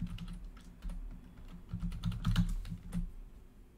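Rapid, close clicking on a computer keyboard while C++ and QML code is typed, an uneven run of light keystrokes with a few heavier taps, no talking.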